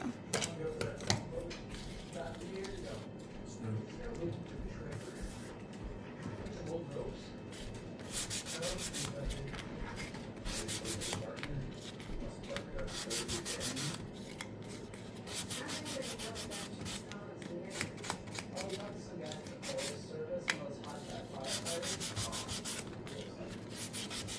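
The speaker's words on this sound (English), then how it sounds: "I think I'm gonna sand these too" Wood pieces for a porch barn door being hand-sanded, a steady scratchy rubbing that runs continuously and close up, with faint speech now and then in the background.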